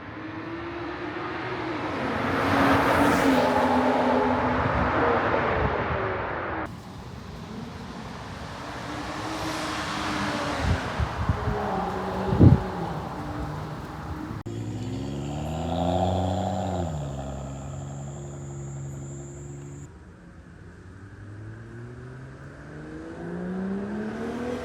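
BMW 335i with the N55 engine driving, its engine note rising and falling through several passes and gear changes, with one sharp transient mid-way and no talk.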